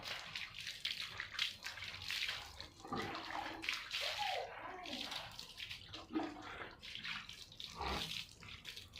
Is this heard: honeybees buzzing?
no